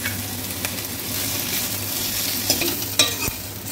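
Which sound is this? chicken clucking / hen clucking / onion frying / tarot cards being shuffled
onion frying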